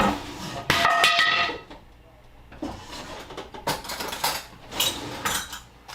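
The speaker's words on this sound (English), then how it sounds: "That was the Mattarello, in case you were wondering what the loud noise was." An Italian wooden mattarello rolling pin knocked on a kitchen counter while lasagna is assembled, giving several loud clattering bangs and rattles in separate bursts.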